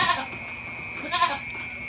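Baby goats on a backyard goat farm bleat twice in quick succession, close and clear, with a steady high hum in the background.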